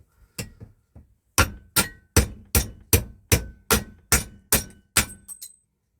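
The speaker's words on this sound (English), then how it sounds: "the one I want for that jobby is the Slater's hammer" Eleven sharp metallic impacts in a fairly even rhythm, each a loud clang that quickly decays, from a slide hammer repeatedly yanking against metal.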